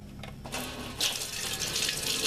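Motor oil drains steadily from the drain plug of a BMW F850GS motorcycle, a continuous splashing pour that swells a little louder about halfway through, heard alone with no talk.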